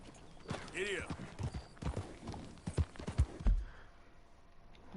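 Horse hooves clip-clopping in Red Dead Redemption 2, a run of close, uneven hoof thuds at a walking pace, with a brief whinny and someone talking over the start.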